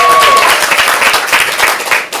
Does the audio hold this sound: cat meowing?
no